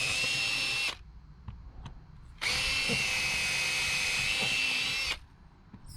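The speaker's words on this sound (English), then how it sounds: "Now you've marked all the holes, just drill all the way through." A power drill whines loudly in two long bursts, drilling through mounts on an inflatable boat, each lasting a few seconds, with quiet pauses and small clicks between them.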